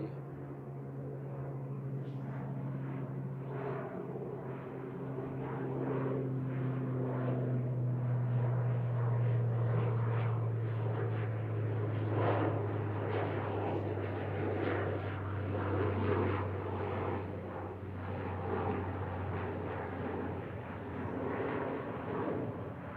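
A Loganair propeller plane climbs away from Manchester Airport after takeoff, its steady droning engine hum holding at moderate distance for over twenty seconds, swelling slightly in the middle before easing off.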